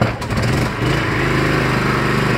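A Kings 2KVA petrol generator in eco mode runs at a steady, loud idle after starting, with a constant low engine drone and an unbroken buzzing hum that stays close and even throughout.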